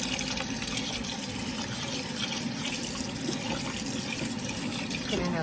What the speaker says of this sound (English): I'm gonna rinse the rice off first.